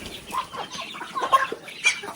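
Domestic chickens cluck in a scattered, irregular series of short calls, moderately close and fairly loud, with no talking over them.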